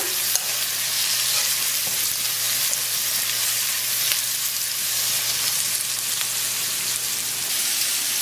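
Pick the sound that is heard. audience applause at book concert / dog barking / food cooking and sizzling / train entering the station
food cooking and sizzling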